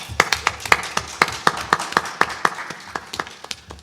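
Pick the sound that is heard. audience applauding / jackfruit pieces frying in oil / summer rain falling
audience applauding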